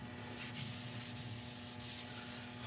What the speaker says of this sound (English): To get a nice high polish on this rim at the end, I'm going to go on with some abrasive paste and a fine abrasive paste